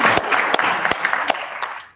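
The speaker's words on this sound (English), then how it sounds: "Let's give her a round of applause." Applause at a school board meeting, a room of people clapping with a few sharp individual claps standing out, fairly close and loud before tapering off at the end.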